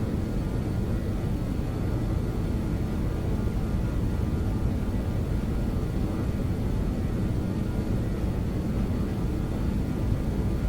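BAe 146-300 jet engines roar at takeoff power in the X-Plane 11 flight simulator, a dense, constant, loud broadband rumble with no pauses or voices.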